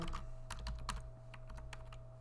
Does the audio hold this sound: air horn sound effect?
no